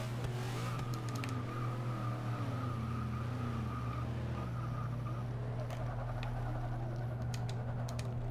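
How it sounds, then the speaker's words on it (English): A Chevrolet Camaro engine hums steadily in the racing game Forza Motorsport 6, with rising and falling revs over a constant low drone and scattered clicks from game controls. "I think you hear the Camaro in here."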